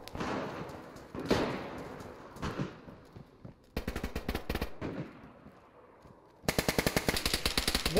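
Gunfire in the DayZ survival game: scattered single shots early on, then two sustained bursts of rapid automatic fire, the last one loud and dense, with no talk over it.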